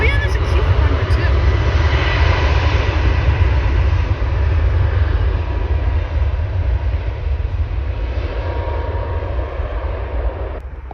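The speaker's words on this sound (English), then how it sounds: "that's WestJet Q400 to Kelowna" A WestJet Q400 turboprop airliner at Vancouver International Airport gives a steady, loud propeller drone with a low rumble, holding near and constant throughout while people talk over it.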